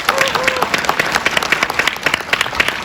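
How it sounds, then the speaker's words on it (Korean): Viewers at a film screening Q&A for the movie 'Jeontuwang' break into lively applause, many hands clapping close and loud with crisp individual claps rising from a continuous roll, and no speech over it. "박수 부탁드리겠습니다."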